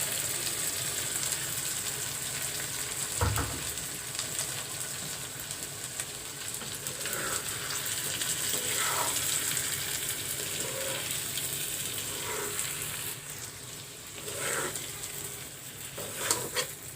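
Boiled fish roe frying in a pan, a steady hiss of sizzling oil throughout with occasional stirring scrapes and clinks.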